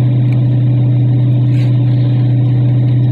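A 2009 2500HD pickup with a 6.0 gas engine and six-speed automatic hauls a 5,000 lb load, its engine droning in a loud, steady low hum with no voices present.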